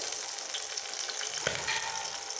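Onions, garlic and dried chillies fry in a hot pan for a hilsa fish tail bharta, giving a steady, close sizzle with a brief stirring knock partway through.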